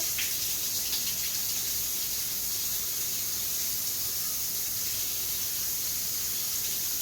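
Warm water runs steadily from a tap with a constant hissing splash, unbroken for the whole stretch and with no voices.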